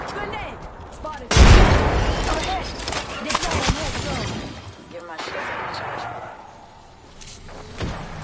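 Grenade explosions burst in Apex Legends on PS5, one loud boom followed by rumbling gunfire and battle noise, with in-game voice callouts over the top.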